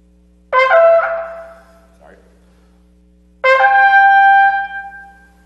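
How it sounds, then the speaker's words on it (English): A solo trumpet plays a motif modeled on the shofar's tekiah call: two loud, bright sustained blasts separated by a pause, each with a sharp attack and ringing decay, over a low steady hum. "The first one is reminiscent of a tikiah call."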